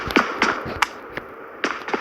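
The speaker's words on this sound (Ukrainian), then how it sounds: "Бот стріляє." Gunshots from a bot in PUBG Mobile, a mobile battle royale shooter: several sharp, separate cracks spaced irregularly, some louder and nearer than others, with no talking.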